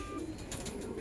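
Black pigeons kept on a rooftop in Allahabad give a brief, faint coo, heard at a distance over a low background hum.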